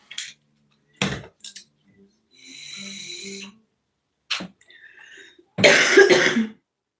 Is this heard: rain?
no